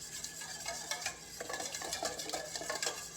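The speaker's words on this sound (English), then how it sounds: "I'm just gonna whisk it in my bowl" Sauce being whisked in a bowl, a steady, quiet scraping and tapping of the whisk against the bowl with a fast, even rhythm, heard close up without talking.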